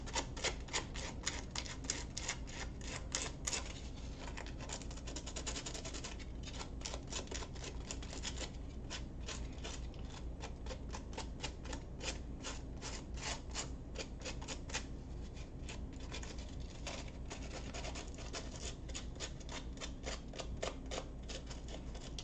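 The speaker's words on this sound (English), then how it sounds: "the best thing to do is to use a sandpaper and just very lightly" Sandpaper lightly working the cut edges of a small wooden Christmas tree craft piece, a steady run of quick, close, crisp rasping strokes in a fast ticking rhythm that continues throughout without talk.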